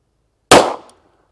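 A single .45 ACP pistol round fired from a SIG with a 3-inch barrel, one sharp loud crack that decays quickly, heard alone.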